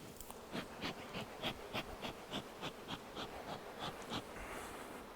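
Agitated honeybees buzz steadily in a close swarm during a honey harvest, the drone pulsing in a regular rhythm of short surges with no one speaking.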